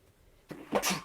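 One person sneezes a single time, nearby and moderately loud, a short sharp burst after a quiet intake of breath in a calm room.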